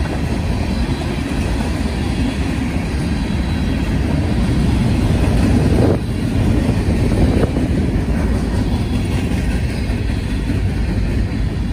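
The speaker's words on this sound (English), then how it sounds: "Boxcars here. I believe these are 89 footers." Freight train of 89-foot boxcars rolling past in Peru, Indiana, a loud continuous rumble with wheel clatter and faint squeal, close by and unbroken.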